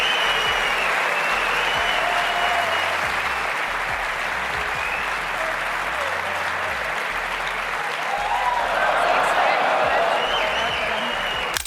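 A snooker crowd reacts after a missed final black, a continuous roar of applause and murmuring voices filling the arena, steady and dense from start to finish.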